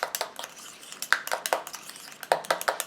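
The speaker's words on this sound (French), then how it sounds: "Comme d'habitude, je mélange." A homemade anti-cellulite cream mixture being stirred, with a utensil scraping and clinking against its container in quick, uneven bursts of fairly loud strokes and no talking.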